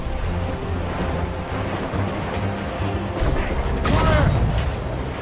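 Ship cannons firing during a naval battle in the video game Assassin's Creed Rogue, a dense rumbling barrage under a low drone, swelling into a heavy booming blast toward the end.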